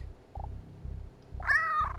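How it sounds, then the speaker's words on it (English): A cat's meow sounds once, high and tonal, over a low rhythmic pulsing background, with no one talking. "Dinosaur picks up her phone and calls her cute cat Mr. Robson."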